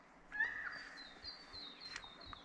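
Birds call at a quiet estuarine anchorage off Fraser Island, a few thin chirps and whistles rising at a moderate distance over faint background hush, with soft low knocks between.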